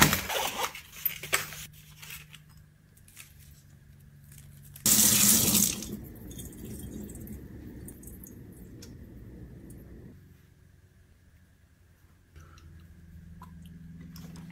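Water runs steadily from a kitchen tap into a sink, with a grape placed in the stream. A brief louder gush midway gives way to a continuous lower rush and some soft wet handling noises.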